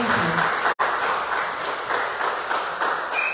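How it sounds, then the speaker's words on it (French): A church congregation applauds during a sermon, a dense, steady wash of clapping that carries on throughout with a brief dropout early on. "acclamez très fort le Seigneur"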